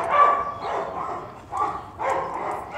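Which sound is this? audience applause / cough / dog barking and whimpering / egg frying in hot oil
dog barking and whimpering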